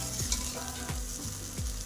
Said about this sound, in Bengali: যেটা আস্তে আস্তে করে নেড়ে নেব, আর এটা মিডিয়াম টু লোতে রাখতে হবে গ্যাসের ফ্লেমটা